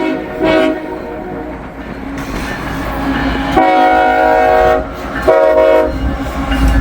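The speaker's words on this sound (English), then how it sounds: "Nice little horn salute from the crew of I-141 today" A loud freight train horn blasts several times over the rumble and clatter of passing rail cars, close by and echoing.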